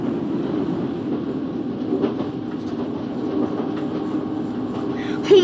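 A London Underground Northern Line train in the Open BVE train simulator runs steadily, with a continuous low rumble and motor hum, faint rhythmic clicks of wheels over rail joints, and a brief louder clatter at the end.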